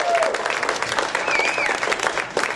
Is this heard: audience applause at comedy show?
yes